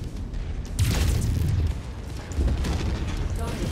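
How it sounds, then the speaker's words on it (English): A hulking battle mech in MechWarrior 5 Mercenaries fires its weapons at an enemy base, booming blasts and rumbling explosions landing in two heavy bursts over a low, constant roar. "I'm gonna start firing at the base."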